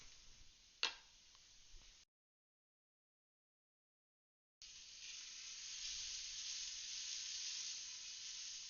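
Leeks sizzle in a hot pan with a sharp clack of stirring at the start, then a gap of silence before a louder, steady frying hiss resumes.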